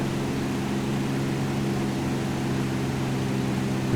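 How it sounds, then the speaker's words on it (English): A propeller aircraft's piston engine in a flight simulator drones steadily and evenly, a constant low hum with a broad airy wash, no voices. "We will lean the engine just a bit."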